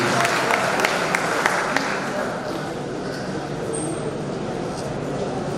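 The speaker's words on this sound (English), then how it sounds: "A round of applause," Audience applause at a university event in Offa, Nigeria, steady dense clapping with a few sharper claps at first, then a softer continuous patter with crowd murmur underneath.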